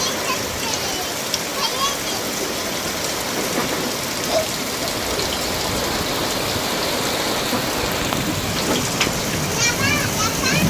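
Heavy storm rain pours steadily and loudly in a dense, continuous hiss of drops hitting surfaces, with a faint roll of thunder beneath, at an outdoor village market.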